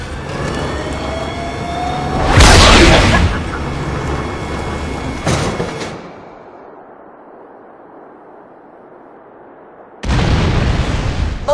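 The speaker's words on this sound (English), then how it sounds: "Please fire the cannon again." A loud, booming video game cannon blast with a heavy rumbling tail, a second sharper blast, then a low hum before another loud burst.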